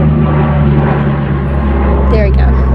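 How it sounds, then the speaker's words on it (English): An airplane flies overhead as a loud, steady low rumble that holds throughout and swells slightly near the end, heard indoors. "there's a plane flying over."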